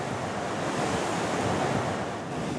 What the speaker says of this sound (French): les vagues étaient déjà très fortes, en milieu d'après-midi.